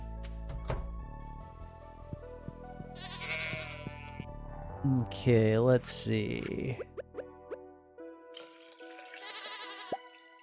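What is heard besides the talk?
goats bleating in Stardew Valley video game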